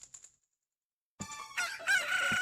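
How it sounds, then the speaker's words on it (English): A chicken crows in Zelda: Ocarina of Time, a short electronic cluck followed after a brief silence by a loud rooster crow with bright, ringing tones. "And now we got ourselves a chicken"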